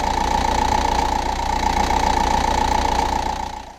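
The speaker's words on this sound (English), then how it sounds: "Now we are going to start the engine, let it run for a few seconds" A Skoda Superb 3U / VW Passat B5 1.9 TDI diesel engine idles steadily just after starting, a continuous even drone with a faint clatter that holds for several seconds before tailing off.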